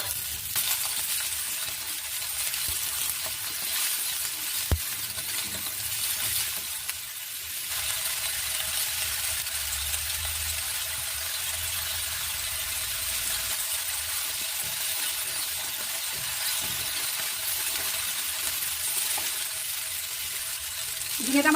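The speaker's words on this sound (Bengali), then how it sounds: "কাঁচা লঙ্কা রসুন দিয়ে একটু ভেজে নেবো ঝিঙেটাকে।" Ridge gourd fries in a pan with green chilli and garlic, giving a steady, even sizzle with a few faint clinks throughout.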